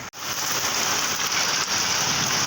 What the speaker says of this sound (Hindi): बहुत जोर वर्षा करुछि